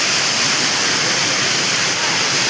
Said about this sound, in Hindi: आउ देखंतु एपट डुडुमा वाटरफॉल